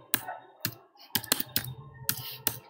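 Close, crisp keystrokes on a computer keyboard, about a dozen sharp clicks in irregular short bursts with quiet gaps between them.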